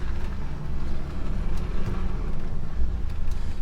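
A truck towing a trailer pulls away in Cornwall, its engine a steady, loud, close low rumble that holds throughout without pause.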